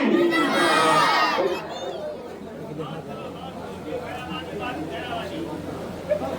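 Loud crowd at a devotional naat poetry gathering shouting a religious slogan in unison, a dense roaring burst at the start that fades into lingering crowd murmur and scattered voices.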